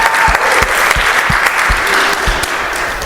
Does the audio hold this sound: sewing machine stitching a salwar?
no